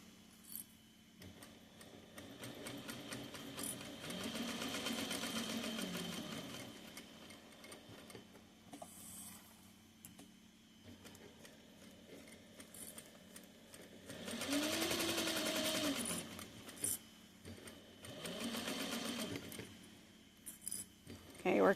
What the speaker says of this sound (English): we're just going to sew around here